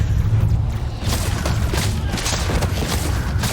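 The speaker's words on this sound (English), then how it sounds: "Just listen to the crack of the laser rifles." Laser rifles blaze away in Warhammer 40,000: Space Marine 2, a dense barrage of sharp cracking shots and heavy booms layered over a constant low battle rumble, loud and continuous throughout.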